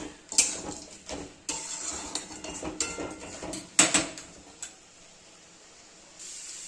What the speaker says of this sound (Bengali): এবার কাঁকড়ার সাথে ভুঁইপোড়টা খুব ভালো করে মশলার সঙ্গে কষাতে থাকবে।